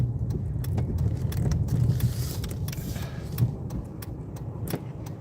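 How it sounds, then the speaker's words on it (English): Cars rushing past at speed on a 55 mph highway near West Bend, Wisconsin during a winter storm, a steady close road roar with whooshes, no talking. "Man, these cars are flying by."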